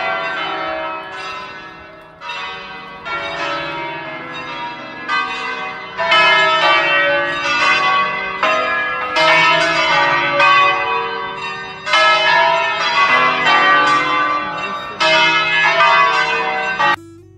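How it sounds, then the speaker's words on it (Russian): Church bells ringing in Bergamo, loud and close, struck repeatedly in rhythmic clusters with rich overlapping tones and long ringing decay, with no voices. "Таким звоном колоколов встретил нас город"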